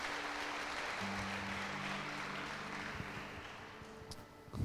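Broad, continuous applause from a congregation during a Sunday evening church service, a hiss-like wash of clapping hands at moderate distance with a low sustained organ or keyboard tone underneath.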